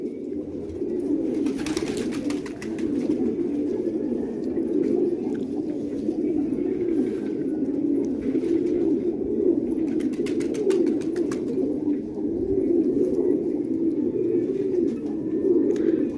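Multani pigeons coo continuously at close range, a soft, rolling murmur of overlapping calls that carries on without pause, with a few faint chirps.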